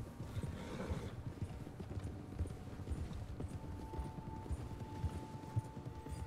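Rapid clip-clop of galloping horse hooves in the video game Red Dead Redemption 2, steady and fairly close, with a faint whinny and a low rumbling background.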